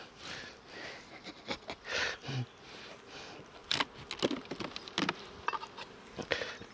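Bees buzz and flit around an opened beehive during a hive inspection, with faint intermittent hums and small knocks and rustles of handling close by.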